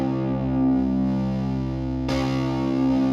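A sustained, dark fuzz guitar chord drones with a warm, muffled tone, then a fresh strum rings out partway through, held and steady.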